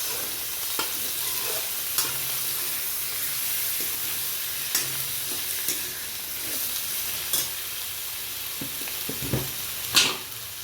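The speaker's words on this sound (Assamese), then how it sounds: "সোনকালে ভাজি লওঁ আৰু এতিয়া মাংসখিনি দি দিওঁ" Chicken frying in a pan with onion, garlic and ginger for a home-style chicken curry made without spices, a steady soft sizzle with occasional stirring clicks and scrapes, fairly quiet and alone.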